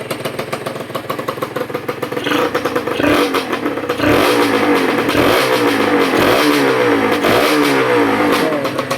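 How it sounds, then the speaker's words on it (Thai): A freshly rebuilt Honda NSR150RR two-stroke motorcycle with a rebored cylinder, revved gently on a break-in test run, its crackling ringing exhaust rising in repeated moderate blips, loud and close. "ผมไม่เร่งสูงหรอกเพราะว่ามันเป็นประกอบใหม่แล้วก็เสื้อตีปล่องด้วยเดี๋ยวรันนินไปก่อนนะครับ"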